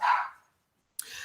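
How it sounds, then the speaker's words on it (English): Dogs indoors give a close, loud bark, fall silent, then a second sharp bark begins after a short pause. "I'm really sorry about the dogs."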